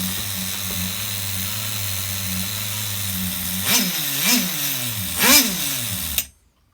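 An HPI RS4 nitro RC truck engine runs on a bench tune, holding a steady high buzzing idle before three sharp rising revs, then cutting off abruptly to silence.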